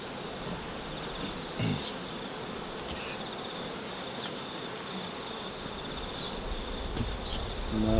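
Honey bees buzz steadily around an open brood frame lifted from a hive, a soft, continuous droning hum with occasional closer individual bees passing by, with no talking.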